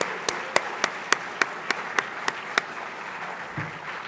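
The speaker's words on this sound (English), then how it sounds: "Can we please give these musicians a round of applause?" Applause from a school audience for student musicians after a concert, a church setting, with sharp individual claps at an even rhythm early on, then fading into a softer murmur near the end.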